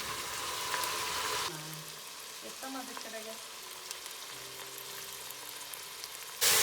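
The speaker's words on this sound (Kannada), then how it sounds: "ಚೆನ್ನಾಗಿ ಫ್ರೈ ಆಗಬೇಕು ಎಣ್ಣೆಯಲ್ಲಿ ಶುಂಠಿ ಬೆಳ್ಳುಳ್ಳಿ ಪೇಸ್ಟು" Ginger garlic paste and mint leaves frying in hot oil give a steady, moderate sizzle with a soft hiss that runs through the whole stretch, joined by a few light clinks from the pan.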